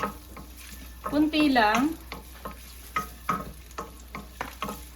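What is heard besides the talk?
sautéing garlic and ginger in a pan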